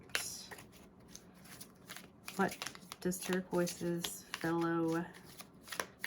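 A fairly new deck of cards is shuffled close up in riffling bursts and a longer final ruffle, with a person speaking over and between the shuffles.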